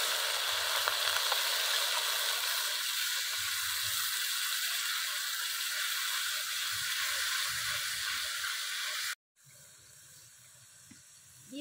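Spice paste sizzles and fries in a hot pan for a fish curry, a loud, dense, steady hiss close up with faint stirring scrapes, cutting off abruptly near the end to a quieter sizzle.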